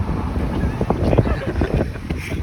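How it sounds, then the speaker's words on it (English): Gusty wind buffets the microphone in a river gorge, a loud low rumbling roar with irregular puffs, with no voices. "She's windy."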